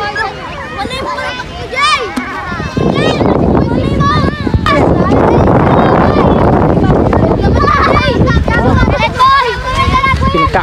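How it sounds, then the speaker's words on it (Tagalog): Strong wind buffets the microphone at an outdoor kite-flying gathering, loud roaring gusts swelling over a crowd of children and adults shouting and chattering nearby. "Sobrang lakas ng hangin mga pis."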